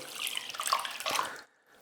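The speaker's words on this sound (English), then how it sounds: "The next step is to cover it with water." Salty water splashes and trickles as it is poured over sauerkraut in a crock, a close, bright, bubbling pour lasting under a second and a half before stopping abruptly, with no talking.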